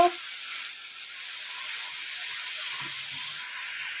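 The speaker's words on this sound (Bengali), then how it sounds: "চিকেনটা আমার ভাজা হয়ে গেছে আমি চিকেনটাকে তুলে নিচ্ছি" Chicken fries in a pan with a steady, close, airy sizzle and hiss that holds evenly throughout, with a faint clink partway through.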